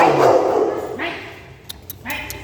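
A Rottweiler at a roadside pork-leg shop in Thung Song gives a few short barks and yips nearby, mixed in with people talking.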